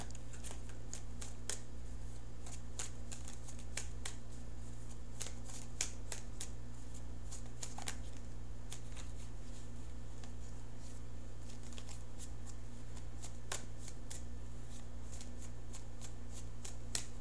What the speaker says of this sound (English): I'm going to shuffle for the outcome card